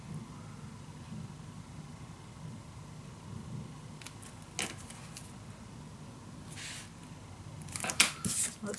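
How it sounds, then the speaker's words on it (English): Scissors cutting small paper pieces for a handmade mini album, a few short crisp snips close by over a quiet room background, with a brief sharper cluster of cuts near the end. "I can cut this in two."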